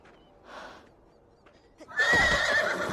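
A horse whinnies in the video game Beyond: Two Souls, first as a softer call and then as a loud, long, bright neigh that takes up the second half, with faint ranch ambience between.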